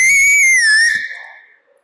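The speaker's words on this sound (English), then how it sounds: "I whistled." A single loud human whistle used to hail an auto rickshaw on a street, one sustained high pitched note that bends slightly in pitch for about a second before fading out.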